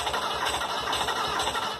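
A campervan engine cranks over and over without catching, a steady rhythmic churning drone with low compression, loud and close throughout with no voices.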